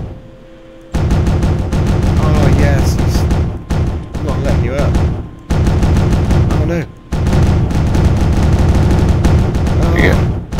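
Sustained, loud bursts of weapons fire during a PvP match in the space game Starmade on the Hang Em High map, with a few brief pauses between long volleys.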